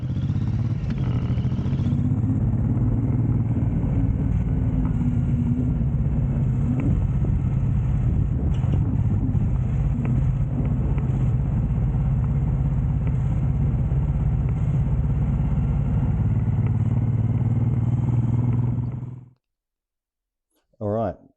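A Suzuki M109R motorcycle rides along a road, its engine giving a loud, steady low rumble with wind roar for about nineteen seconds before cutting off abruptly.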